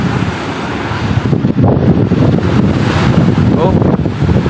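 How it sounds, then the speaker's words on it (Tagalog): Strong wind roars across a rough sea around a small paddle boat off Negros. Buffeting gusts and waves make a loud, continuous rush close to the microphone. "Grabe ang alon nito mga bas kapag lakas ang hangin."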